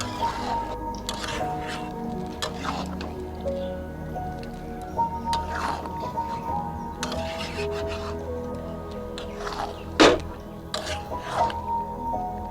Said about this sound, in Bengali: এবার ম্যারিনেট করা চিকেনটা আমি এর ভিতরে দিয়ে দেব।